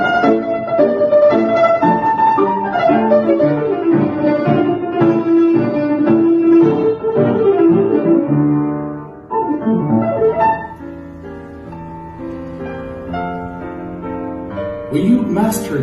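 Piano playing fast repeated notes on a single melodic line, imitating a plucked stringed instrument, a dense rapid rhythm that thins into sparser chords midway, clear and close with no talking.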